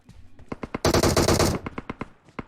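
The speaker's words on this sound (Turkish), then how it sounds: "Oğlum o kim lan öyle mermi atıyor?" Rapid automatic gunfire in PUBG Mobile, a dense burst of about a dozen shots lasting under a second, loud and close, framed by shorter single pops before and after.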